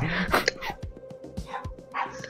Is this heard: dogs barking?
yes